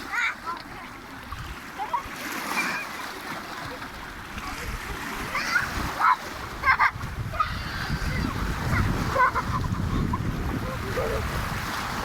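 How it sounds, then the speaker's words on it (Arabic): Rough sea water splashes and slaps against a small boat on the water off Istanbul's Asian side near Darıca, irregular bursts over wind and engine rumble, with people talking nearby. "بلش يهوج البحر علينا."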